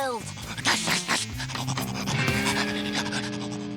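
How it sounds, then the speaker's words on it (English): A cartoon dog pants close up in a comedy cartoon, with quick breathy huffs and scraping rasps among background music and effects. "Just look at Gnasher, the best kept dog in the world."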